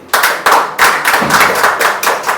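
A church congregation claps hands during Sunday worship, with sharp, loud, evenly spaced claps in a steady rhythm of roughly three per second from nearby.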